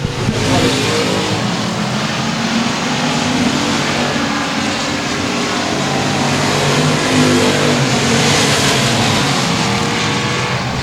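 Race cars roaring down the boulevard at Sabine Speedway, a loud continuous engine drone that swells and holds throughout, with no voices over it.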